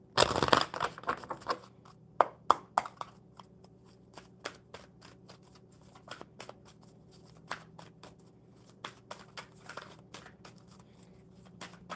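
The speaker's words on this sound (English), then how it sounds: "One more good shuffle for Sunin." A deck of cards is shuffled up close, starting with a loud riffle and then continuing as a steady patter of soft, crisp flicks and taps.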